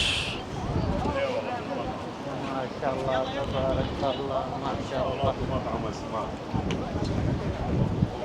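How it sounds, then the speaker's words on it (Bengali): Strong wind buffets the microphone at the Jeddah seaside, a steady rushing roar throughout, with several people talking close by over it. "কি বাতাস।"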